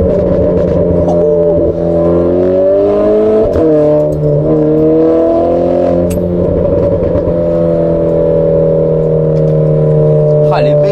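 A Renault Clio RS Trophy Stage 1 with 260 hp drops into second gear at around 80, the engine revving hard in a loud, sustained rising and falling drone with a brief blip on the downshift, while a voice talks over it.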